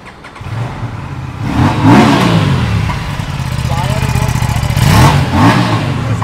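A powerful used superbike engine revs hard several times in a Mumbai second-hand bike showroom, loud and close, with its pitch rising and falling between throttle blips, some voices underneath.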